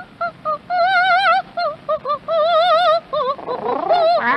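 A pet parakeet chirps and trills in a string of bright, wavering whistles that come in short bursts and longer runs, close and fairly loud, with a rougher squawk near the end.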